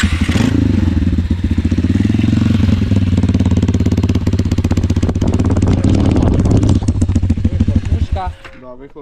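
An IZh Jupiter 4 two-stroke motorcycle engine is kicked into life and runs with a loud, steady, rapid popping putter close by for about eight seconds before cutting off abruptly.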